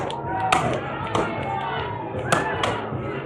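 Axes chopping into wooden blocks at a lumberjack show in Ketchikan, Alaska, with sharp thuds at irregular intervals over steady crowd noise and a commentator talking throughout.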